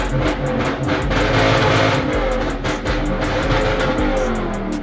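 Lexus LS430 with a self-built custom exhaust revs continuously, a loud, rough, sustained engine roar with slight rises and dips throughout, no voices.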